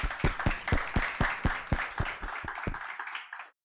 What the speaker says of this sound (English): So a big round of applause to all of you.